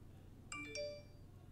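A phone ringtone sounds as a brief, quiet electronic chime of two quick bell-like notes that ring out and fade over a low background hum.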